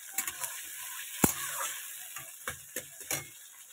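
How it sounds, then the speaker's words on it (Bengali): Onions fry lightly in a pan, giving a faint, soft sizzle broken by scattered sharp clicks and scrapes of stirring, with no voices. "হালকা করে আগে পেঁয়াজটাকে ভেজে নেব।"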